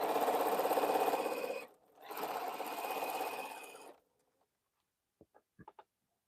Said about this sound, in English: I'm just sewing rows together